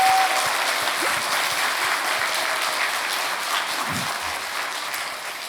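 A church congregation applauds during a Sunday afternoon service, a full, sustained wash of clapping from many people that carries on steadily for several seconds and tapers only slightly toward the end.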